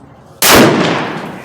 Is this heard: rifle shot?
yes